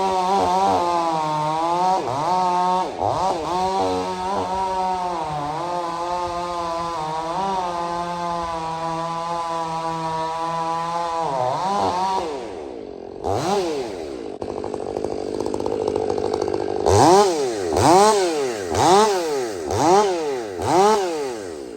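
A Stihl MS500i chainsaw bucks felled timber, revving up and down in long, rising and falling whines. It pauses briefly, then returns in several sharp, rhythmic bursts as it cuts, loud and close.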